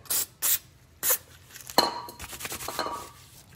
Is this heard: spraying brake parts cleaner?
yes